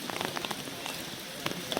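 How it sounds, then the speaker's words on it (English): Rain falls steadily in Mostar, an even patter with scattered sharper drops striking nearby surfaces, heard alone at a soft, moderate level. "it's raining."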